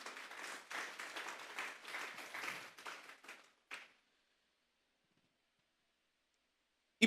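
Congregation applause at a Sunday church service, a burst of clapping that lasts a few seconds, fades out, and leaves near silence before a single sharp sound at the very end.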